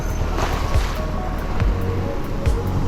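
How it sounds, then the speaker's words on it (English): Ocean waves break along a South African shore during a solo fishing trip, a continuous loud wash of surf with rumbling low swells and wind. "And some waves."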